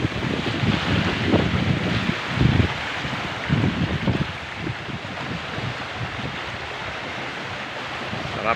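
Rough sea waves at high tide wash onto a beach in Dangcalan, Sorsogon, with a continuous loud surf roar swelling in a few surges, mixed with wind gusting against the microphone.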